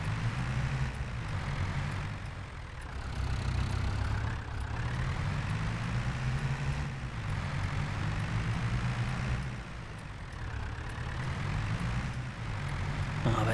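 A tractor engine in the Farming Simulator 22 game runs at a steady, loud low rumble, its pitch rising and falling a little as it revs. No one talks over it.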